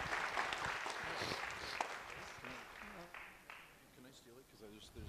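Audience applause after a PowerPivot presentation at an Excel conference in Bulgaria, a moderately loud spread of clapping that fades over a few seconds while a voice speaks over the tail.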